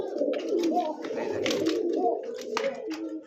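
A pair of black Bombay pigeons cooing in soft, repeated throaty bursts, close by, with faint background noise.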